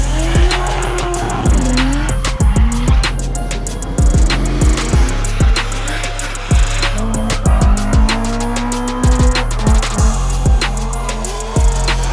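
A 1JZ-engined BMW E46 drift car revs and burbles, with repeated sharp throttle blips and pops over a rumbling idle, loud and close.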